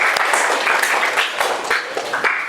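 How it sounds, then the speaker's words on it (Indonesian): Classroom applause, dense steady clapping from a group of students, close and loud throughout, without a break. "Tepuk tangan juga."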